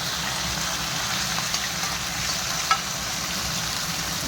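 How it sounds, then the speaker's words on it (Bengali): Pieces of a large rohu fish, about 1.35 kilograms, fry in oil over a stove, making a soft, even sizzle with light stirring and a faint clink partway through. "রুই মাছটা 1 কিলো 350 গ্রাম, বড় রুই মাছ। তাই এখন এই ভাজছি।"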